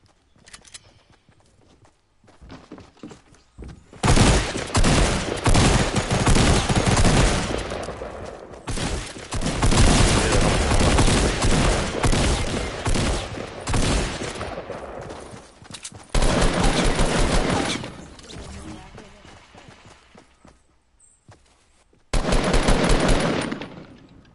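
Rapid bursts of AR rifle fire in a shooter video game, loud dense automatic volleys in several long stretches separated by brief pauses, with no talking.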